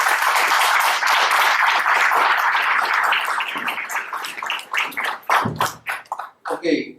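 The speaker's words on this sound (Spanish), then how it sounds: "Un aplauso para Marco." A university audience applauds a guest speaker named Marco, dense clapping at first that thins into slower, scattered individual claps before dying out.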